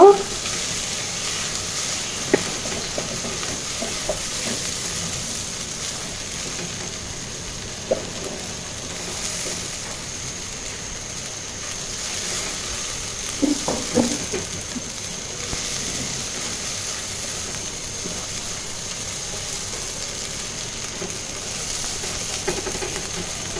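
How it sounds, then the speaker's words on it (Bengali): Washed rice is fried in a pan for vegetable khichuri, giving a low continuous sizzle with occasional light stirring scrapes and clinks, close by and without speech. "চালটা একটু ভেজে নিব"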